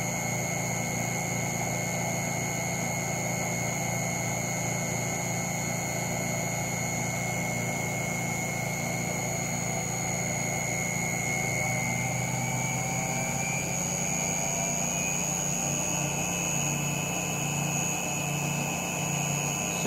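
A Brewer Science CEE 100 spin coater spins at 5000 RPM, giving a loud, steady, unbroken motor whine with high tonal lines that holds the same pitch throughout.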